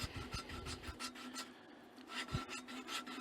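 Lapping compound crushed between two metal surfaces while lapping parts of a Waterloo Boy 5 hp engine, heard as quiet, rhythmic back-and-forth rasping strokes with no voices.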